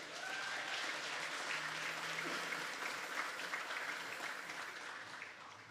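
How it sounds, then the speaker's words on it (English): Audience applause at a secondary school graduation ceremony in Gingerland, a sustained wash of many hands clapping from a large crowd, steady and distant, tapering slightly toward the end. "Can we give them a round of applause, please?"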